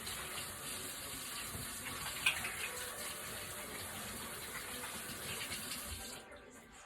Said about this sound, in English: Let me rinse my hands off a little bit here.